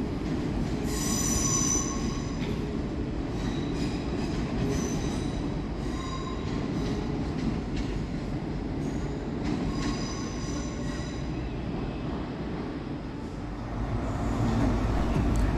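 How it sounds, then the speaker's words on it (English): West Midlands Railway electric multiple unit 350266 pulls out of Birmingham New Street station, its wheels squealing in high, sustained tones over a steady rumble throughout. "Sneaking out behind the T-Zeros is 350266, working the 1139 West Midlands Railway service to Birmingham International."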